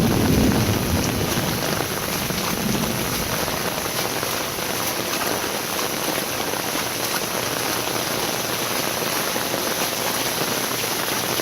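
Heavy rain in a Florida summer storm, a dense, even hiss of downpour on surfaces that holds steady from start to finish, with no voices.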